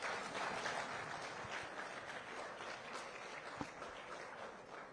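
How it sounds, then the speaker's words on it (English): An audience at a National Orientation Agency sensitisation event gives the Director General a round of applause, with continuous clapping heard at a low, somewhat distant level throughout. "Please, another round of applause at DG"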